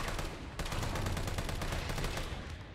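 Rapid gunfire in Resident Evil 3 sounds as a dense, loud burst of shots that rattle on continuously for a few seconds at close range, with no talk over it.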